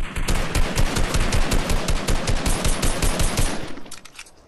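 Rapid automatic gunfire from the Fortnite video game rattles in a loud, continuous burst of evenly spaced shots that tails off at the end, with no talk over it.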